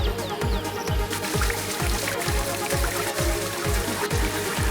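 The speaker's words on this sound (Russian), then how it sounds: "Справа шумит река Бури-Гандаки." Loud, steady rushing water of the Budhi Gandaki river in Nepal roars continuously, with a regular low thumping pulse repeating underneath.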